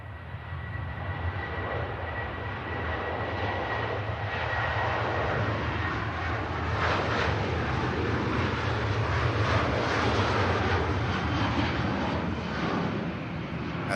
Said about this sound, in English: Here's a Jet 2. See where this rotates.